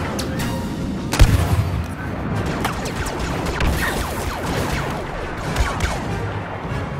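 Continuous blaster fire hammering a wall in a Star Wars Battlefront battle, dense overlapping zaps and booms with one heavier blast near the start, a loud sustained barrage with no pauses.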